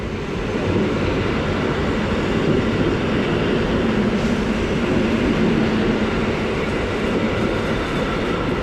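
A Polish EN57 electric multiple unit train departing toward Czechowice-Dziedzice rumbles loudly and steadily nearby, a continuous low roar with a faint rising whine as it pulls away.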